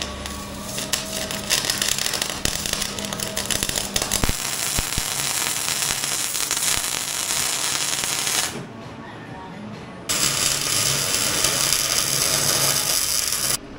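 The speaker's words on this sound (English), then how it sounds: "Now let's get it onto the bucket in position and then weld it up so it will be solid and hopefully will last for a long time." Welding mounting points onto a tractor bucket quick attachment produces a loud, steady crackling hiss that runs almost continuously, with a brief drop partway through before it resumes.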